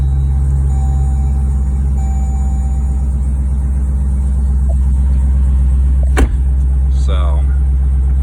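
A Dodge SRT car engine idles after starting, a steady deep low rumble heard close throughout, with a brief sharp click or thump near the end.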